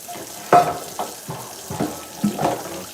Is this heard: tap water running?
yes